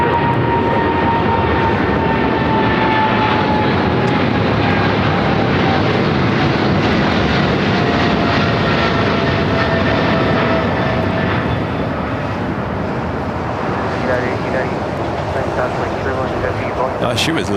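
A heavy Air China Boeing 777 takes off at LAX, a loud sustained jet engine roar that fills the whole stretch with broadband rumble, close and steady.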